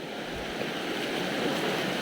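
A large waterfall roars as a steady, dense rush of falling water, loud and unbroken throughout with no voices.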